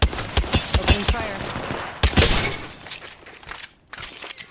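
Rapid gunfire in a competitive video game comes in dense, close bursts of overlapping shots, with a crashing, shattering edge. After a short lull, further sharp volleys follow.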